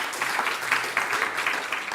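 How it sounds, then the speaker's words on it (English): An audience at a mobility startup prize ceremony gives the winners a round of applause, a continuous wash of many hands clapping at moderate loudness and holding steady. "I think we can give them a round of applause."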